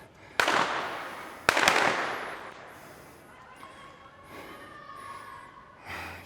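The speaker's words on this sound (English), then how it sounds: "Kids lighting fireworks." Kids set off fireworks outdoors in Barcelona, two sharp loud cracks in quick succession followed by fainter pops and whistling squeals at a distance.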